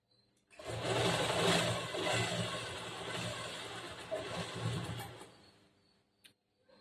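Sewing machine stitching the side seam of a cross-cut blouse, a steady close mechanical whir running continuously for about five seconds before it stops, with a small click afterward.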